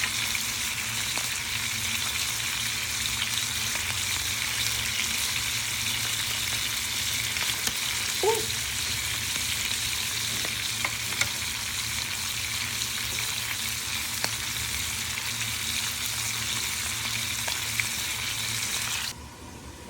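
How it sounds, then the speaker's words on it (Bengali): Hilsa fish fries in a pan on a home stove, a steady, close, even sizzle and crackle with a few faint clinks and no talking. "ইলিশ মাছ ফ্রাই করছি"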